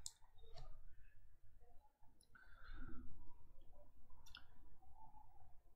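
A computer mouse clicks a few times while navigating a website, with crisp isolated clicks spaced a second or two apart over a quiet background.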